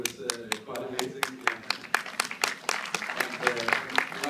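An audience claps at a film festival Q&A in Los Angeles, with sharp, irregular hand claps building into steady, fairly close applause that continues throughout.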